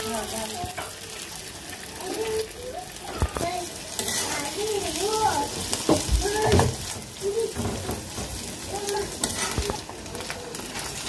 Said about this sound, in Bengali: ডিম আর পেঁয়াজটা কিন্তু ভাজা শেষ